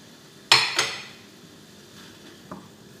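Mushrooms and broccoli drop into a hot pan of shrimp stir fry, giving two quick clattering hits and a brief sizzle, then a soft clink near the end.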